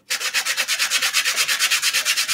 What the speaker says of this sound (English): I want my plane to be smooth as I can. And I'm just using a sanding block.